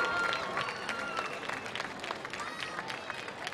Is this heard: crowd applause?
yes